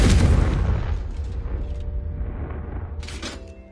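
A fire-curse blast in the video game Hogwarts Legacy, one heavy booming explosion up front that rumbles and fades, followed by faint crackling debris and a small later burst.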